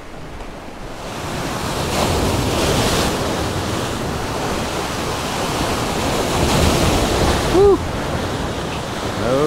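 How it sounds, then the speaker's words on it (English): Ocean swells surge and break on the rocks of a jetty, a steady loud roar of surf with wind buffeting the microphone throughout, while a person lets out a brief shout near the end. "them swells start coming in like that and it just gets downright dangerous"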